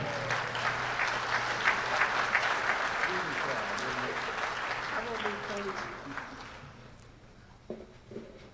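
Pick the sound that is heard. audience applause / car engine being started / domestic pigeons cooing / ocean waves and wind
audience applause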